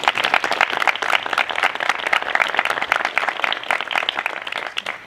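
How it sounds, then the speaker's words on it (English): Dense applause from an audience at an outdoor Arbor Day tree celebration, steady clapping filling the full five seconds at close range before tapering slightly at the end. "how about a round of applause on this one?"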